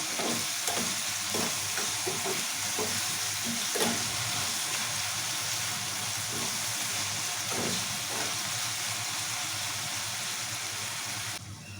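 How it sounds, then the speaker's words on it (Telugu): Cauliflower curry with onions, tomatoes and turmeric is stirred in a hot pan. Steady sizzling and frying fill the whole stretch, with soft scraping stirs of the spoon heard now and then, and no voices. "ఫస్ట్ వేసుకున్నాక ఒకసారి కలుపుతున్నాను"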